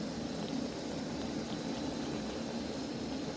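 Biscuits fry in oil on a home stove, a steady, faint, hissing bubble with an even texture throughout and no talking.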